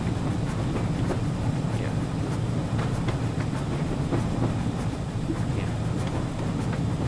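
A GWR 5700 Class pannier tank steam locomotive runs in a train simulator on a West Somerset line, giving a continuous rolling rumble with faint rhythmic clicks and chuffs at an even, moderate level throughout.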